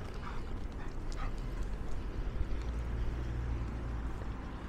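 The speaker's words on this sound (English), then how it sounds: "But the way they bark, it's like, you know, looking for some fight." A dog barks on a city street during a neighbourhood walk, the short yips and barks sitting at moderate distance over a steady rumble of traffic and outdoor noise, with no talking.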